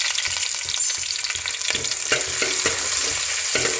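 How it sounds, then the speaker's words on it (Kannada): Ginger, garlic and green chillies fry in plenty of oil with a steady close sizzle, broken by regular scraping stirs of a spatula in the pan; no voices. "ಸ್ವಲ್ಪ ಫ್ರೈ ಮಾಡಿದರೆ ಸಾಕು."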